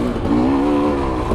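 A motorcycle's rear tire spins without grip on a trail while the engine howls in a brief, loud, rising rev, close by and alone.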